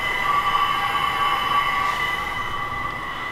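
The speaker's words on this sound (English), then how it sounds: "The machine is homing just now. You can probably hear that." A machine homing after being switched on gives a continuous motorized drone with a steady high whine and sustained tones, holding even and fairly loud throughout with no talking.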